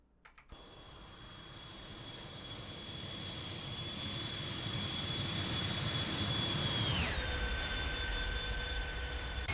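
Jet engines of an Airbus A300-600 Beluga roar in a steady, rising whine during the climb after takeoff from Toulouse, with a sharp drop in engine pitch about seven seconds in.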